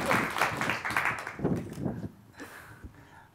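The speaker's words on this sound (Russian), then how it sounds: "Еще раз аплодисменты." Applause from a master class audience starts full and busy, then thins and fades as the clapping trails off, with a few scattered claps and a brief voice near the end.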